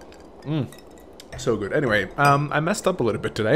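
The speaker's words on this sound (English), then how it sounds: "That's the sound of ice cubes in white wine." Ice cubes clink against a glass of white wine in a few short, bright taps near the start, quickly followed by a person talking at length over the top.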